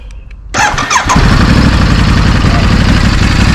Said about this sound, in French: Ça nous permet d'entendre la sonorité dégagée par cet échappement d'origine.